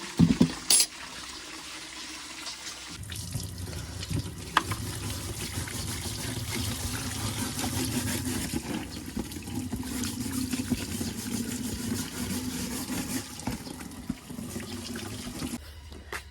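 Tap water runs steadily into a sink or container to soak freshly harvested giant bamboo shoots, a continuous close splashing trickle that carries on alone for most of the stretch.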